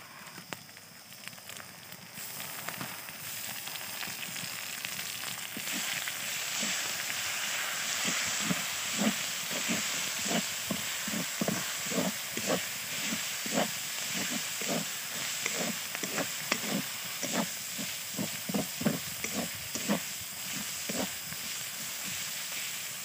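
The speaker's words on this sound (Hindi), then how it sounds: "एबे आमे रसुण बटा पकेबु" Garlic paste frying in a pan for chicken curry gives a continuous sizzling hiss, joined after a few seconds by a rhythmic run of soft scraping strokes from stirring, close and moderately loud.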